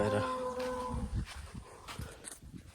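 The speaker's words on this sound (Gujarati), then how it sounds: "આ ઇંગ્લિશ ગાય બહુ કરે છે" An English-breed cow moos on a farm beside dragon fruit beds, one drawn-out low call up close followed by faint rustling and scattered thuds.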